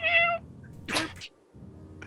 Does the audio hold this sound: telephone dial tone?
no